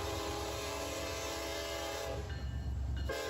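A Kansas City Southern (KCS) throwback-painted locomotive rolls past with a continuous loud rumble and sustained horn tones, the horn fading briefly near the end before sounding again.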